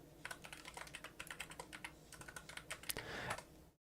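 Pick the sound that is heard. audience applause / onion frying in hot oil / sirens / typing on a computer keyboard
typing on a computer keyboard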